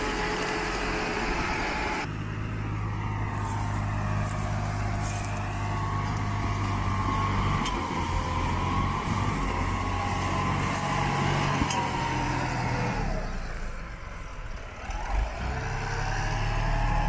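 A tractor engine runs steadily while ploughing rough village farmland, a low continuous drone with changing pitch and one brief dip in loudness before the engine load picks up again.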